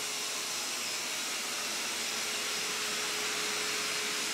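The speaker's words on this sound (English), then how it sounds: "and the vacuum will be dispatched to that location." An ECOVACS DEEBOT X2 robot vacuum and mop combo runs with a constant, loud, airy whir and hiss that holds steady and unbroken throughout, with no talking.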